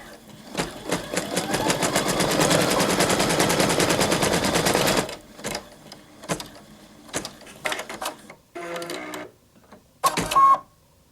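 A Brother Innov-is 2800D embroidery-capable sewing machine runs a continuous rapid rattle for about five seconds, then stops, followed by several short stitching bursts and clicks, including the few lock stitches, separated by brief pauses.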